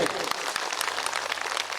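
A crowd at a Kalash Poojan ceremony claps steadily together, a dense burst of applause with occasional distinct sharp claps.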